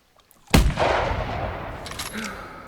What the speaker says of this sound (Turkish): Yani vurayım mı? Vurdum gitti ya.